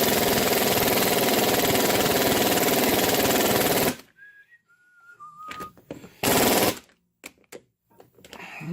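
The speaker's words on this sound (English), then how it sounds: "Okay, turn the MIG on." MIG welder laying a bead on a plow, a loud, steady crackling buzz for about four seconds that cuts off abruptly, followed by scattered clanks and short bursts of shop noise.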